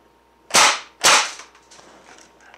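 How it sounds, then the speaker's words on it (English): Umarex EBOS electronic CO2 BB gun firing two single shots about half a second apart, each a sharp, loud crack with a brief decay, followed by faint rattling in a quiet room. "We'll go ahead and fire a couple rounds."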